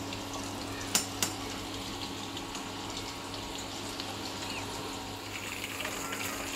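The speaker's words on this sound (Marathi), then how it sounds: "आता सर्व तेलामध्ये सोडून दिले पीस, तर आपण याला 2 मिनटं फ्राय करू" Chicken butterfly pieces deep fry in hot oil with a steady, moderate sizzling hiss, broken early by two brief clinks of utensils on the pan.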